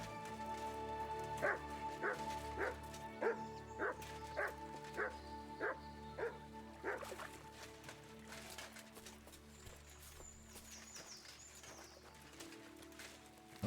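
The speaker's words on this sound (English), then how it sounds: "What are you barking at?" A dog named Mutt barks about nine times in a steady, evenly spaced run in Kingdom Come: Deliverance 2, over constant game ambience, then falls quiet while the background bed continues.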